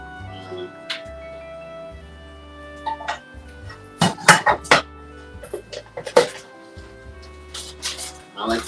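A spoon scrapes and clanks against a pan while spreading a ground turkey shepherd's pie layer, in several bursts of close metallic knocks and scrapes over soft background music.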